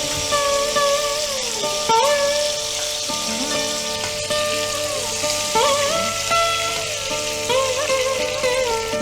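Mutton pieces sizzle in a hot pan with a steady crackling hiss, punctuated by occasional scraping stirs and a tonal hum in the background, close and continuous throughout.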